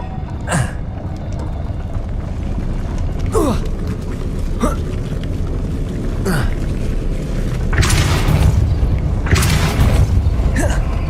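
The Depulso force spell is cast in the Hogwarts Legacy video game, with sharp magical whooshes and booming bursts recurring every second or two over a low rumbling game backdrop, the later hits louder and denser.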